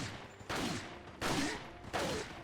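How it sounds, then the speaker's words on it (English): Three evenly spaced gunshots fired at a grenade in Resident Evil 4, each a sharp, fairly loud crack with a short tail, standing alone without talk. "So we will shoot this granada like 3 times like this."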